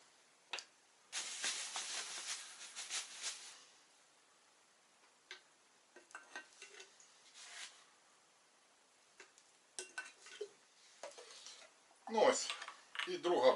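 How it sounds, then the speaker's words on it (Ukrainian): Sugar is measured and poured into a glass jar while making rosehip wine, giving a granular rushing pour, then scattered small taps and clinks of the jar and scale, with clearer handling knocks near the end. "Першу банку цукор засипав, зараз відміряю для другої банки."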